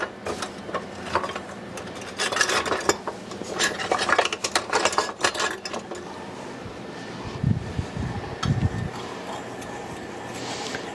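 Cinnamon roll ingredients being stirred in a measuring cup: a busy run of clinking, scraping spoon taps against the cup, with irregular bursts and a few duller knocks toward the end.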